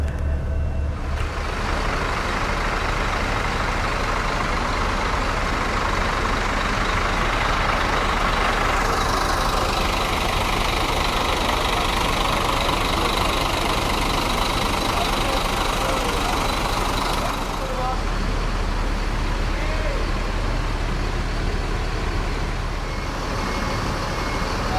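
A Sudiro Tunggajaya bus engine idles steadily from inside the cabin, a continuous low rumble with a hiss of air and faint background chatter throughout.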